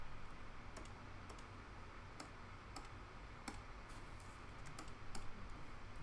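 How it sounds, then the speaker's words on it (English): Sharp, scattered clicks of typing on a Bluetooth computer keyboard, close and fairly quiet over a low background hiss, with no one talking. "I have a subpar Bluetooth keyboard"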